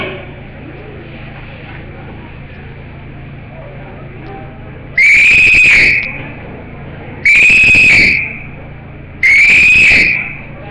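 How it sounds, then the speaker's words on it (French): Three loud, shrill whistle blasts, each about a second long, separated by short pauses over a steady background hum, opening an Adventist youth society ceremony. "Sur ces 3 coups de sifflet"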